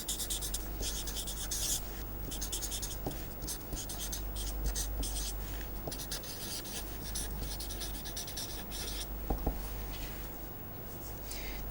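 Pen or marker scratching steadily across a writing surface while a graph of a filter's magnitude response is sketched by hand, a continuous close rubbing with short strokes and pauses.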